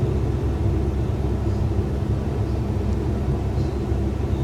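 A small airplane's engine drones as a steady low rumble inside the cabin while the throttle is eased back on approach for a short landing near Perito Moreno Glacier, with no sharp changes and no voices.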